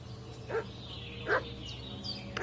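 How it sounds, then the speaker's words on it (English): A dog in the video game Kingdom Come Deliverance 2 gives two short, spaced barks at moderate distance over a steady ambient game background, with faint bird chirps in between. "What's that dog making such a fuss about?"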